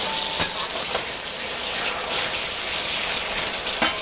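Turkey and green beans stir-frying in a pan with a few drops of sesame oil, a steady close sizzle with occasional sharp spatula scrapes and clicks throughout.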